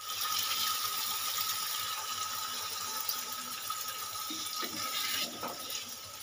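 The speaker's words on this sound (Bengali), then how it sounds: "এবারে দিয়ে দেব পরিমাণ মতন জল" Water poured into a pan of fish curry masala with chopped green chillies, a steady close splashing rush lasting several seconds with small knocks near the end, no voices.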